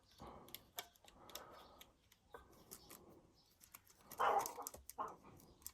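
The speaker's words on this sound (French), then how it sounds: "Désolée pour le chien." A dog barks several times in separate bursts, somewhat distant, with a louder cluster near the end amid clicks and quiet rustling.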